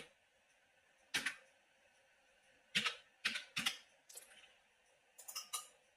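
Keys clack on a computer keyboard while a captcha is entered on a voter-list website, coming in short separated bursts of a few keystrokes each, close and fairly quiet.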